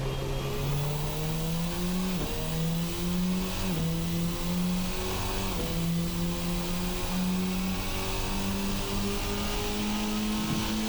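A Formula RSS Supreme race car accelerates in a sim racing game, its engine climbing in pitch through repeated gear shifts, each upshift dropping the whine before it rises again, loud and continuous.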